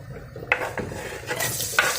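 Chopped red onion goes into hot oil in a pressure cooker, giving a few sharp utensil clacks and a rising sizzle that swells toward the end, close and without voices.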